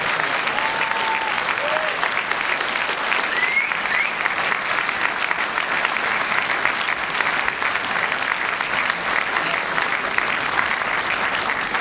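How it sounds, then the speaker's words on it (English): Sustained, dense applause from a festival audience for a film's cast and crew after a Q&A, an even wall of clapping that holds steady for the whole stretch with a faint whoop early on. "I'd like one last round of applause for all the cast and crew of Farms of Girls"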